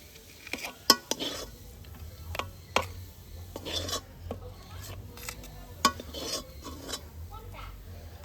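Spiced cauliflower paratha filling scraped from a kadai into a bowl with a utensil: a series of sharp, close metallic scrapes and knocks at an irregular pace over a quiet background.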